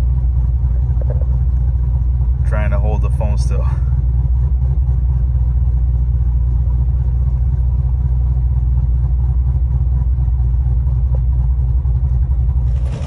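A cammed C7 Corvette Stingray idles close by with a deep, steady, lumpy rumble that holds throughout, and one person speaks briefly over it.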